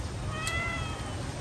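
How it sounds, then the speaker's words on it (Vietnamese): A cat gives a short, thin meow over a steady low background hum indoors, faint and brief, with no talking over it. "mèo nó kêu"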